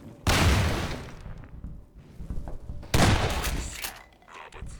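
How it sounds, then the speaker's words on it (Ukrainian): Shotgun blasts from the video game Half-Life 2: two loud, close booming shots roughly three seconds apart, each with a broad burst and decaying tail, amid other game noise. "Все ж таки дробовик, прекрасна зброя. Один постріл."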